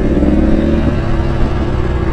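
A dirt bike rolls with the clutch pulled in and no engine braking, giving a close, steady rumble with low mechanical clatter and no rising revs.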